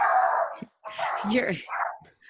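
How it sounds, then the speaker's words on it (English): A dog yips and barks in short bursts close by, mixed in with people talking. "Wow, that dog wants to get in on it."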